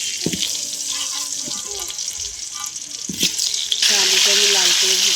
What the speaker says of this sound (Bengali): তা আলুটা আমি নুন হলুদ মাখিয়ে ভেজে নেব।